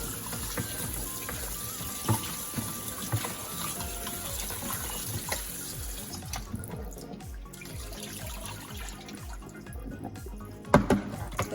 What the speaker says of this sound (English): I'm about to wash it in some very cold water to get rid of all the acid and the salt